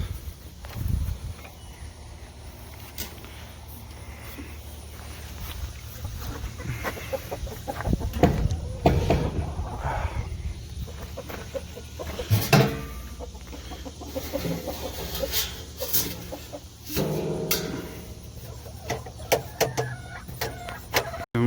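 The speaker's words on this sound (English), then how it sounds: "Chickens!" Chickens cluck intermittently amid rustling and clattering noises, with louder bursts of activity close by and a steady background hum.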